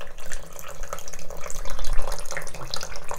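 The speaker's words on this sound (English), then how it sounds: "Go ahead and get my face wet." Bathroom tap runs while someone wets their face before using an anti-aging cleansing gel, a close, steady splashing stream with uneven bursts as hands cup and lift the water.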